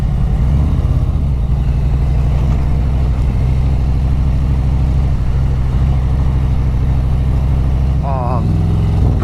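A Harley-Davidson Road Glide Special 114 motorcycle rumbles at idle, a loud, steady low throb that holds throughout, with a short rising rev near the end.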